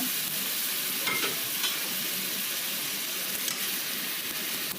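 Tomato, onion and ginger-garlic paste sauté in a pan for kothu parotta, giving a steady, close sizzle with soft stirring scrapes that continues without a break and without talk.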